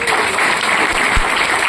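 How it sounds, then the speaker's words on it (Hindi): Loud, sustained applause from a large audience at a motivational talk, with dense clapping held at an even level for the whole stretch and a single heavier thump partway through. "एक बार जोरदार तालियां बजा दीजिए।"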